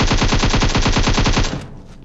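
Rapid automatic gunfire from PUBG Mobile, a loud close burst of about a dozen evenly spaced shots over roughly a second and a half, ending abruptly with a short fading tail.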